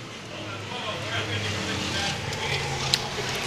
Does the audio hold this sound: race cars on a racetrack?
yes